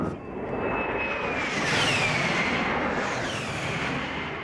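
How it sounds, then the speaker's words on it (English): Low-flying A-10 Warthog jets pass with a loud, continuous engine roar and a high descending whine, swelling as they come overhead and staying close throughout, with no talk. "Warthogs were a very interesting kind of plane because it's kind of eerie, because they get very low and they're just got this whine to it."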